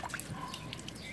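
Water trickles and drips softly while a kokedama moss-ball plant is watered, a faint continuous patter with a few brighter droplets, close by and with no voices.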